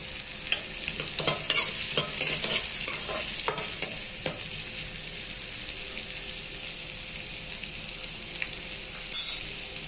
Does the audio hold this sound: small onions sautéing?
yes